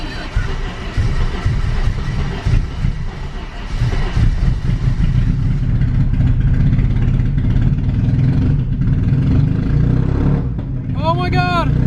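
A car engine running on wood-gas fuel for the first time, a steady loud mid-low engine drone that rises in revving, with excited voices shouting over it near the end.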